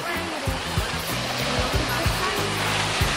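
Ocean waves at sunset wash in a steady, loud rushing wash close by, broad and continuous, with a low rhythmic rumble underneath and no clear voices.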